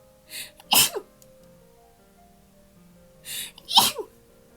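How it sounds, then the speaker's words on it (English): Two sharp sneezes from a person, each with a quick intake before it, close to the mic with a quiet pause between them. "so I need to sneeze"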